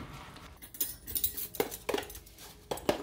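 Spinach stirred into a pot of stew: faint scattered clinks and soft scrapes of a utensil against the pot, irregular and quiet with gaps between.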